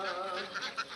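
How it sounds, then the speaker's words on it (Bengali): Penned farm ducks let out a quick burst of nasal, honking calls just after release, several overlapping close calls within about a second. "আর এই যে আমি হাঁসগুলো ছাড়লাম।"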